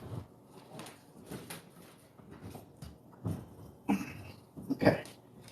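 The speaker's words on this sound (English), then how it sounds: "So now you hear her clicking that dang outside button so much" A dog repeatedly pressing a talking communication button by the outside door, producing sharp plastic clicks and short taps at irregular intervals amid household noise, louder toward the end.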